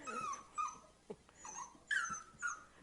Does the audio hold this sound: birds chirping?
no